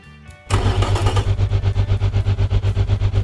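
Supercar engine in the car-building game Automation cranks and fires at about half a second, then settles into a loud, steady rumbling idle with a pulsing, regular throb.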